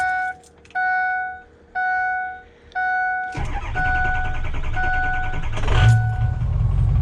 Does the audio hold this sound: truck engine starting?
yes